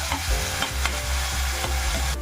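Sliced tomatoes sauté in a pan for a spicy potato curry, giving a steady close sizzle broken by the scrape and clatter of stirring.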